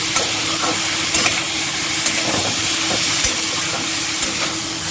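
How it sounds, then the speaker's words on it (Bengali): Spice masala fries in oil for a Bengali fish dish, giving a loud, continuous sizzle and hiss with occasional scrapes and knocks of a stirring spoon and no talking. "এভাবে কিন্তু কষিয়ে নিতে হবে একটু ভালো করে, যতক্ষণ তেলটা না ছাড়বে।"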